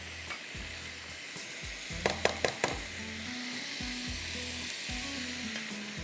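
Onion and garlic fry in a pan with a steady, close sizzle, while a few sharp clinks and scrapes of a utensil against the metal land in a quick cluster midway through.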